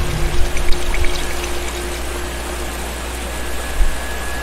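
A helitanker drawing up water in Life is Strange 2, a steady rushing, pouring wash of water with a constant low engine hum beneath it and a few brief bumps.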